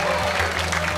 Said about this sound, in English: Everyone's clapping